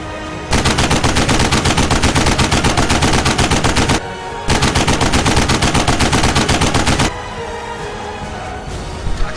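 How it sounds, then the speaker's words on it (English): Sustained World War I machine gun fire, loud and close, two long rapid bursts of rattling shots separated by a brief pause, then a quieter rumbling tail. "Perhaps the most important technological development of the war was the machine gun."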